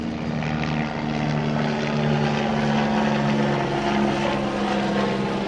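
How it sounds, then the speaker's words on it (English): The Hard Rock helicopter shuttle flies overhead at an outdoor RV show in Florida, its rotor giving a steady, droning thrum that holds at moderate loudness throughout. "Looks like it's the Hard Rock helicopter shuttle."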